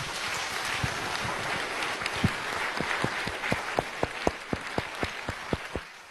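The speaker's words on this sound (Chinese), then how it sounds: "好，掌声欢迎他。" An audience applauds to welcome Nobel economics laureate Eric Maskin onto a Chinese talk show stage, a dense steady wash of clapping with a few sharper individual claps standing out near the end.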